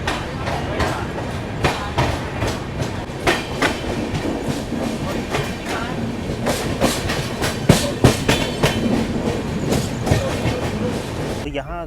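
Rajdhani Express (22222 CSMT, Mumbai) heard from inside a 3rd AC coach after leaving Gwalior Junction: steady loud rumble with rhythmic clickety-clack of wheels over rail joints throughout, no speech.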